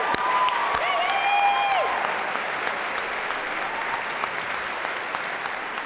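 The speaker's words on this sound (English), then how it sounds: "Let's give the filmmakers a round of applause for participating." A crowd claps for filmmakers at a short-film screening, sustained applause filling the room throughout, with a few faint tonal whistles or squeaks early on and no talk.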